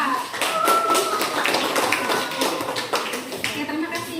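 Students in a classroom clap for the fourth presentation group during a teacher training performance test at UIN Syarif Hidayatullah Jakarta, a scattered run of close hand claps with a voice talking over them.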